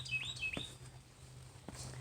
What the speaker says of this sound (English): Sound like the bird is saying, Gabby